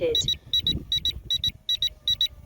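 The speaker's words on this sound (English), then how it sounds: "The lights start flashing on the controller, the drone's gaining altitude, the controller's beeping" Rapid high-pitched electronic beeps in quick pairs repeat steadily from a Ruko U11 Pro drone controller during return-to-home, with low rumbling and faint handling noise beneath.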